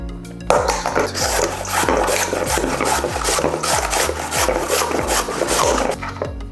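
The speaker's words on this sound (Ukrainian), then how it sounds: "я натирати буду прямо в звичайну металеву миску" Carrot being grated by hand into an ordinary metal bowl, a steady rhythmic rasping of repeated strokes, close and fairly loud with no talking.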